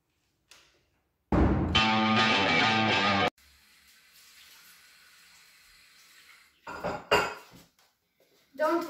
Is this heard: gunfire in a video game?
no